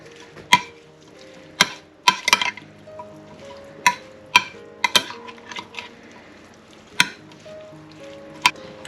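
Caprese salad of tomatoes and cheese being mixed with coarse kosher salt in a dish, heard as sharp, irregular clinks and scrapes of a utensil against the dish, close and clear, with no talking.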